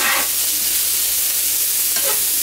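Food fries in a pan with a steady, loud hiss that runs evenly throughout, broken by a couple of brief crackles and with no one talking.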